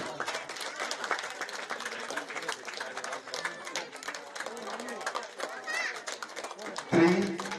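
Crowd applause at a Sankranthi festival game event, a steady patter of many hands clapping throughout, mixed with chatter and voices, with a louder bump near the end.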